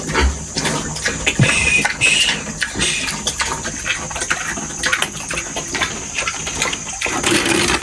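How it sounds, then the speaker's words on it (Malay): A pregnant sow eats fallen guava fruit, with irregular close-up chomping, rooting and snuffling noises in uneven bursts against outdoor background noise. "Betina ni, babi betina."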